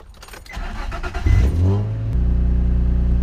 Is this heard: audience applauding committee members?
no